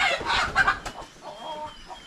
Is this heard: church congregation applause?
no